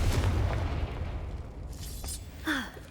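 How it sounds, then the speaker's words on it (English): A Confringo blasting spell explodes in the video game Hogwarts Legacy, a loud booming blast that rumbles and then fades, followed by a brief whooshing magical effect near the end. "Confringo!"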